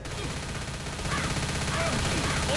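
Gunfire in the video game Left 4 Dead, a rapid, dense stream of shots at moderate volume forming a continuous rattling burst with no talk over it.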